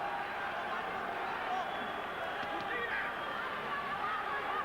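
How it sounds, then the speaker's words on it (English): Boxing arena crowd in the last round of a championship fight, a low continuous murmur of many voices, steady and distant under the hall's ambience. "Crowd nervously expectant"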